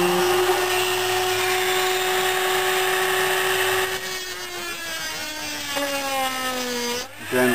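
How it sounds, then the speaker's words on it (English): A Dremel rotary tool cuts into a circuit board to remove game and video ports, a steady high whine that drops in pitch and turns rougher as the bit bites into the board, running continuously and close. "Start up the Dremel."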